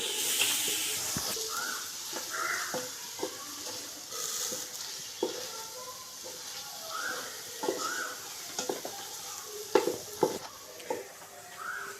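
Masala being mixed in a sizzling pan while chicken is prepared, heard as a soft, continuous fry hiss with repeated spoon scrapes and taps spread through, fairly faint and close.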